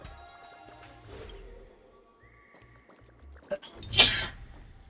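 A sneeze bursts out near the end, loud and close, standing out against quiet game ambience in Honkai: Star Rail, with soft background tones and a few small clicks before it.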